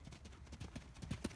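Rhythmic hoofbeats of a horse cantering during a riding lesson, a steady triple-beat clop at moderate distance, fairly quiet and without talk over it.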